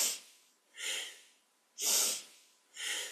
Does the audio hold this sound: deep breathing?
yes